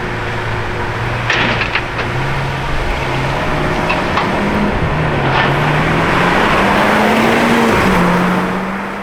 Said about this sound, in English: Yes, it's the orange Aventador S!